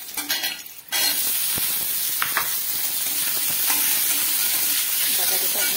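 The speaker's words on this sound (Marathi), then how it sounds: "तर मिरची शेंगदाणे टाकून घेतलं, आता भाजून देते" Green chillies and peanuts roast in a hot pan with a steady sizzling hiss, a short stir-clatter at the start and occasional faint scraping.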